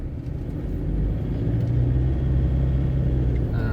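A Toyota Fortuner VNT G SUV with a turbo diesel engine runs with a steady low rumble and a faint whine layered on top. The sound is close and continuous, with no talking.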